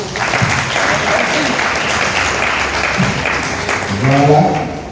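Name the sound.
congregation applauding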